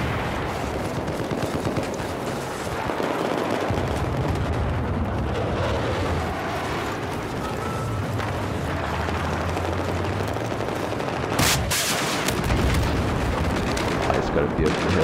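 Gunfire from the video game Battlefield crackles through a dense, continuous battle mix of shots and rumbling blasts, with a sharp loud burst near the end.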